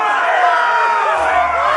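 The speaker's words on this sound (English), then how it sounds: "We cannot let the crowd go wanting!" Arena crowd in a Game of Thrones game roaring and cheering, a dense, loud wash of many voices that swells steadily with a low rumble entering partway through.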